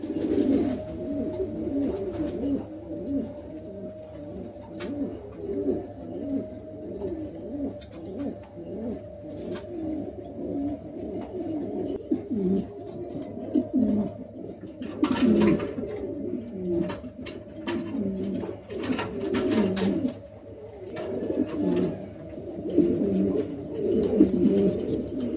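A pair of fancy pigeons coo continuously in low, throaty bubbling rolls, steady and close throughout with a few clicks and rustles from the loft around them.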